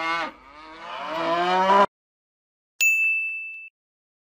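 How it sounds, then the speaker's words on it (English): Cows in a farm field moo loudly in one long, rising bellow nearby, followed after a pause by a short bright ding. "Why are the cows so noisy?"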